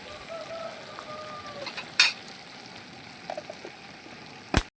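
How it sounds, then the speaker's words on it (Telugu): Ginger garlic paste fries in a pan for a chicken curry, giving a soft steady sizzle throughout with a couple of sharp utensil clinks against the pan, close and moderately quiet. "ఇది పచ్చివాసన పోయే వరకు వేయించుకోవాలండి"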